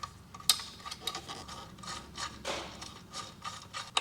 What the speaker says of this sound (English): We can now re-screw our brake cable into the brake hanger there.